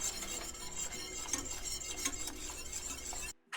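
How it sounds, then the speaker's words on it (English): Chocolate and raw milk being stirred vigorously in a pot, giving a steady, close scraping and swishing of utensil against metal that runs continuously, then cuts off briefly near the end. "we're going to stir pretty vigorously at this point"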